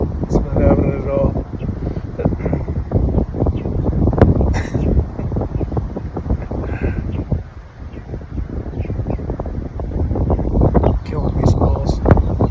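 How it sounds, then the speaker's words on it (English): Strong wind buffets the microphone outdoors among trees, a loud continuous low rumble that barely eases midway before gusting back up, with a person talking over it throughout. "It's a little windy, so I'm going to try to speak up and hopefully I can filter out some of the wind."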